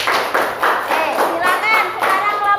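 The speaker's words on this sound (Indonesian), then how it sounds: "Oke, kalau sudah beri tepuk tangan" Group applause in a classroom, a few loose bursts of clapping with voices talking over them.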